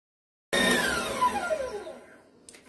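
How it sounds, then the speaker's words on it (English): An electric mixer beating cream cheese frosting made with powdered sugar, starting abruptly and whirring loudly with a falling pitch sweep for about two seconds, then trailing off into softer rattles. "I'm going to just mix it a good 4 minutes or so it'll get nice and fluffy"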